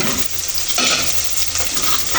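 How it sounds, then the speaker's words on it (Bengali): Plenty of onions frying in hot oil in a pan for a country chicken curry, a loud, close, constant crackling sizzle with a few stirring scrapes, and no voices. "তেলটা গরম হলে পেঁয়াজ দিব, পেঁয়াজ দিলাম, বেশি করে পেঁয়াজ দিচ্ছি।"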